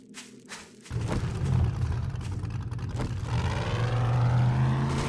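An engine roars up after a short quiet start, a steady revving drone that builds and holds loud to the end, a car driving in the game 7 Days to Die.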